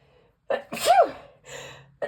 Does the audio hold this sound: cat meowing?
no